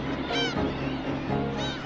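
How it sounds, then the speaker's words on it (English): Crowd of black-tailed gulls foraging on a garbage pile near Dalian, Liaoning, with a couple of rising nasal calls standing out over a continuous din of distant flock noise. "thousands of gulls forage for food from this huge pile of garbage"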